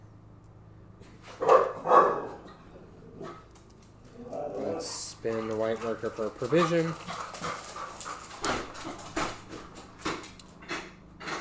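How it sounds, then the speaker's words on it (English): Dogs bark and whimper at lawnmowers somewhere in the background, in a few scattered bursts and pants mixed with nearby speech. "Dogs are mad at the lawnmowers."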